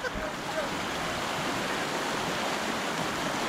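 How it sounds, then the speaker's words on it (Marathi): A fast monsoon river in Maharashtra near Paleshwar Waterfall rushes in a dense, steady roar, loud and close, with no pauses. "अभी ये इस नदी को क्रॉस करना है हमको. बहुत तेज़ बहाव है."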